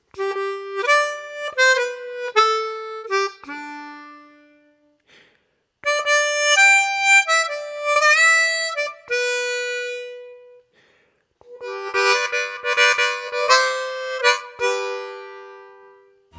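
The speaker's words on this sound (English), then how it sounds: "Harmonica is played using chords and intervals, and it sounds like this." Harmonica riff from a song, played solo in three clear melodic phrases of sustained reedy notes separated by short pauses, bright and close with no voices.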